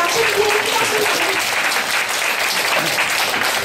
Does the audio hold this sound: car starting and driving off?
no